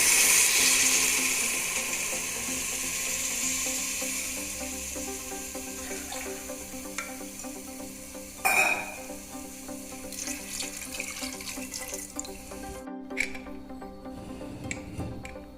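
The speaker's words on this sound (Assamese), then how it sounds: "সেইটো গিলাচেৰে মই এতিয়া ইয়াত পানী দিম 2 গিলাচ" Two glasses of water poured into a pressure cooker holding rice for pulao, a steady splashing stream that thins out, then scattered drips and small knocks.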